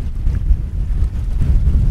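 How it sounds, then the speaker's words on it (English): Strong wind at anchor off Isla Coronado near Loreto buffets the microphone in a steady, heavy low rumble with gusty surges throughout, no voices present. "Really windy here today."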